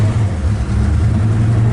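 A 1956 Chevrolet 210, smog exempt, with its engine running and revving, a loud, close, steady low rumble with a pulsing throb and no speech over it.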